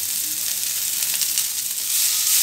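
Onions sautéing in a hot pan until caramelised, a steady close sizzle with fine crackling spits that runs through the whole stretch and grows a little louder near the end, with no voices.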